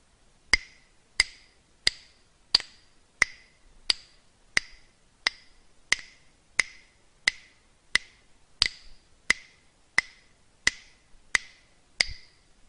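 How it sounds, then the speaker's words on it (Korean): Hands clap a rhythm pattern for a music lesson, sharp isolated claps in a steady repeating pattern, loud and close against a quiet background, about nineteen claps across roughly thirteen seconds. "그 다음 6박부터 리듬골을 2번 반복해서 박수로 쳐봅시다."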